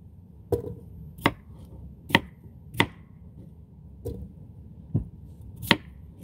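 A knife chops small red potatoes on a cutting board in sharp, distinct thuds, about seven close strikes at an uneven, unhurried pace over a faint room hum.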